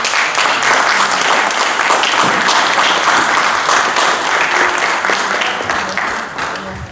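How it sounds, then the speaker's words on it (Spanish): An audience applauds at a commemorative event in Santander, dense, loud, continuous clapping that holds for several seconds before easing slightly at the end. "Me sumo al aplauso de todos ustedes hacia doña Leticia Saldívar"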